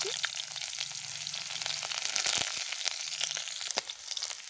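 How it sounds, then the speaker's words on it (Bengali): Onions fry in mustard oil in a wok, with a continuous loud close sizzle broken by crackling pops and the soft scrape of stirring. "এই যে পেঁয়াজ খুব ভালো করে আমি ভেজে নিয়েছি, সর্ষের তেল দিয়েছি"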